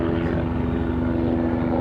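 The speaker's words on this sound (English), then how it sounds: "Helicopter." A helicopter passes overhead near a boat moored on the River Thames, a continuous loud droning rotor and engine hum that holds steady throughout.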